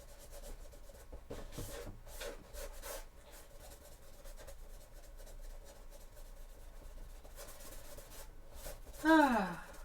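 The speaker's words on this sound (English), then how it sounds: "It's kind of therapeutic, this. Filling up holes." Soft rubbing and scraping of a putty knife working filler into holes in cosplay shin armour, quiet and steady, ending with a short sharp squeak.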